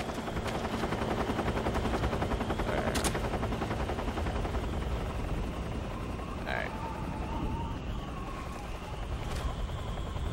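Helicopter in a Metal Gear video game, a dense rumbling rotor chop throbbing steadily under bursts of game effects, loud and constant throughout.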